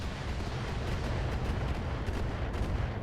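Artillery fire in the BattleTech video game during a battle against a Cougar mech. A continuous, rumbling barrage of booms and blasts sounds at a steady, loud level, with no voices over it.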